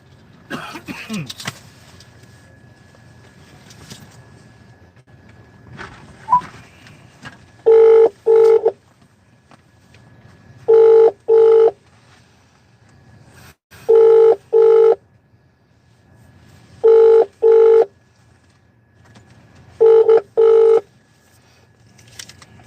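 A phone call being placed to a police DCP's office: bursts of dual-tone dialing or ringback tones repeat in about five evenly spaced pairs, clear and close, over a quiet background with brief handling noise at the start.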